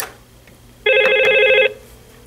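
An office desk phone rings with an incoming call: one steady, bright electronic ring burst lasting under a second, close and loud over a quiet room, with no talking.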